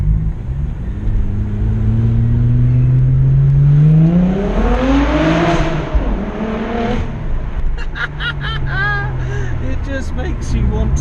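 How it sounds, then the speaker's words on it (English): An Audi S4 engine revs hard as the car drives under a bridge, the loud exhaust note climbing and echoing off the structure, then easing off into a pulsing, crackling tail, with a voice heard alongside. "Absolute favourite things about this car is the noise it makes"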